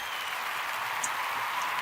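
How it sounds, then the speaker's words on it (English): An audience applauds for Emily at a live show, a steady, fairly soft wash of clapping that runs for the whole short moment without pause. "Let's get a round of applause of that, huh?"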